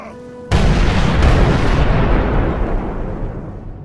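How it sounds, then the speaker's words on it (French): Siege cannon fire from 1513 at Dijon's ramparts: a sudden loud boom strikes after a brief quiet lead-in, then a long rumbling roar slowly decays across the rest of the moment. "Les canons ennemis vomissent leur premier boulet."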